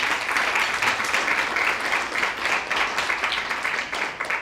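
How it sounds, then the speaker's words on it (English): A conference audience breaks into steady applause at a women in officiating event, many hands clapping densely and evenly throughout without pause. "That deserves a round of applause"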